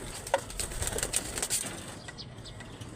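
Pigeons take off and fly overhead, soft flurries of wing flaps against quiet outdoor background, fairly faint and brief.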